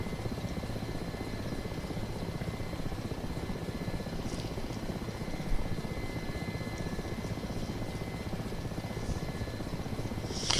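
A Mi-8MTV2 helicopter's steady rotor and engine drone runs throughout in a flight simulator, loud and constant with a faint whine on top, no voices.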